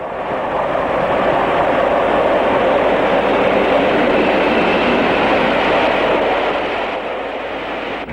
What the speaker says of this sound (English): An inbound working to Leeds approaches Keighley.